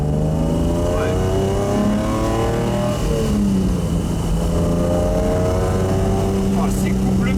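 A Hawk Stratos replica car's engine pulls hard and revs through rising and falling pitch sweeps, loud and close from inside the cabin, with people talking over it.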